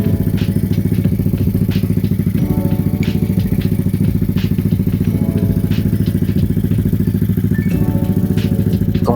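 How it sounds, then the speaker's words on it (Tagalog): A Yamaha Mio Sporty motorcycle's freshly top-end-refreshed 160cc engine idles steadily nearby with a rapid, even putter and some light mechanical clatter, and no voices over it. "Kung mapapansin, napakatahimik ng makina, gawang Genrex."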